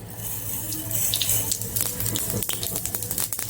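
Mustard seeds hit hot oil in a pan while tempering for Gujarati patra bites. They give a close, steady hissing sizzle with scattered sharp crackles and pops.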